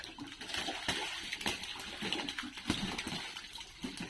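Chinese ducks splash and play in rainwater outside their farm, giving a continuous wet slosh with irregular splashes and flicks of water close by, with no voices.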